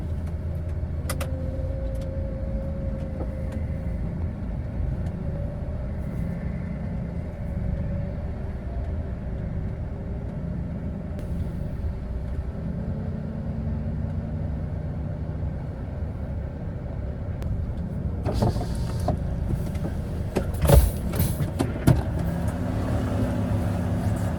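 A Volvo car pulls away and drives on, heard from inside as a low, steady engine rumble. A few sharp clicks and knocks come near the end.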